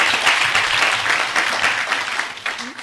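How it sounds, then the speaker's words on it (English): Audience applause for the Prime Minister debater at a provincial debate, a steady dense wash of clapping held at an even level for a few seconds before easing slightly at the end. "Another round of applause for the Prime Minister from the government."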